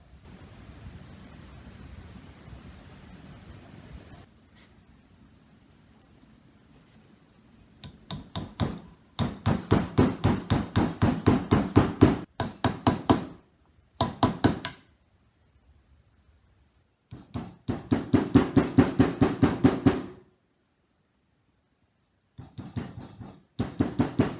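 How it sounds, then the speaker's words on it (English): Round head rivets hammered into the holes of a handmade wooden warhammer: several bursts of rapid, close metallic blows separated by pauses, over a faint background hiss at the start. "I'm going to hammer each round head rivet into each smaller hole"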